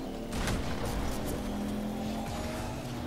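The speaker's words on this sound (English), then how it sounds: "That car sounds so cool." A continuous car engine drone in a video game with a steady tone, like a car revving along at speed, moderately loud with no talking.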